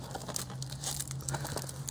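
Cellophane plastic wrap crinkles and tears as it is peeled off a DVD case, a close run of crisp crackling bursts over a steady low hum, with no talking.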